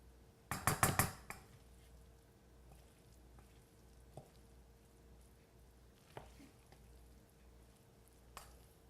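Pasta tossed with corn, squash and beans in a bowl for fettuccini with goat cheese: a short burst of clattering and scraping near the start, then quiet with a few faint isolated clinks.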